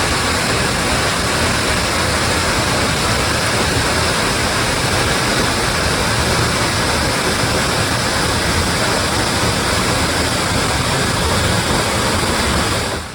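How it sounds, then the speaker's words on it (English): Cascata do Salto do Cabrito, a waterfall in the Azores, gives off a steady, dense roar of falling water that stays loud and unbroken throughout, with no voices. "Literal translation: the waterfall of the jump of the baby goat"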